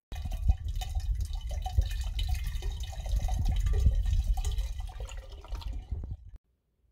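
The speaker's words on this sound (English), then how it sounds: "then we're going to decant that into the bottle" Steam-distilled liquid, still slightly warm, poured from a bowl into a bottle, giving a steady low gurgling trickle with small splashes that runs for about six seconds and then stops abruptly.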